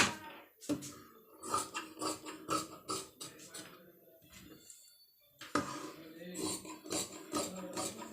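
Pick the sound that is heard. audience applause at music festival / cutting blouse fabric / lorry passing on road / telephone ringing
cutting blouse fabric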